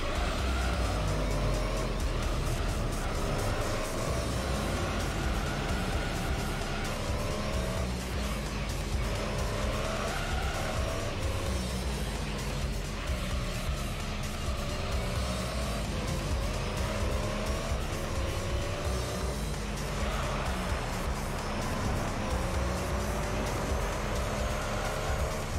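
Race car engine in Gran Turismo 3: A-Spec roars continuously at high revs, rising and falling through gear changes with tire squeal as the car drifts around a corner, loud and steady throughout.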